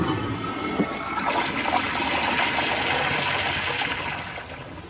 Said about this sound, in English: I actually really like how this flushes on low pressure.